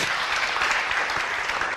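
A crowd at a meditation session claps loudly and continuously, a dense, even burst of applause that fills the whole moment.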